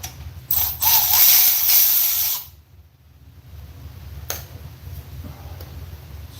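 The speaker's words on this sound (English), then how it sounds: "I'm gonna have to tighten that stud back down. I'll have to get a wrench to do it." A wrench tightening a stud on a Briggs and Stratton engine, a loud close ratcheting burst lasting a couple of seconds, then quiet with a single sharp click and faint handling noises.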